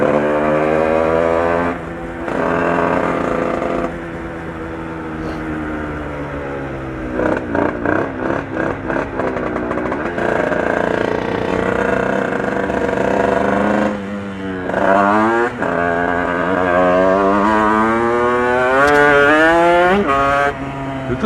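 A motorcycle engine revs hard and repeatedly, pitch sweeping up and down through gear changes with a stuttering burst in the middle, loud and close, with no talking.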